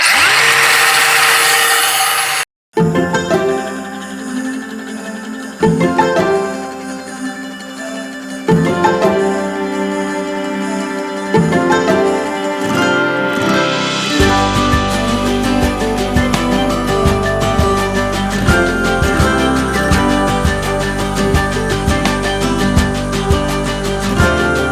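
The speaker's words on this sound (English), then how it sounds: "I know where I need to grind off the paint." An angle grinder grinds paint off metal for solar panel brackets, close and loud, with a steady high whine that rises and dips as the disc bites. There is a brief cut-out early on, then long continuous grinding.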